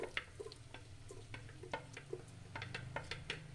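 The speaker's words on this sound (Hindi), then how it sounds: "इसी तेल के अंदर हम प्याज फ्राई करेंगे।" Onion fries in hot oil for a cauliflower sabzi, with a faint steady sizzle broken by light scraping and clinks of a spoon stirring the pan.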